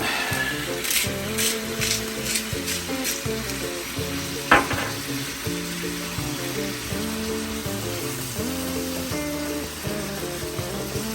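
Food sizzling steadily in a hot pan while being cooked for a creamy garlic dish, a continuous frying hiss with occasional stirring scrapes and one sharp clink, beneath background music and no talk.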